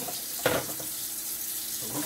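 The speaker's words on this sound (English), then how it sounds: "we're going to fill up our sink with some vinegar and water" A kitchen sink fills with water for rinsing chicken, a constant rushing tap stream close by, with a brief clunk near the start and a voice faintly under it.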